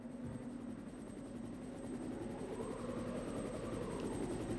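A helicopter in a Resident Evil movie hovers with a steady rhythmic rotor chop and a constant engine drone, loud and unbroken throughout.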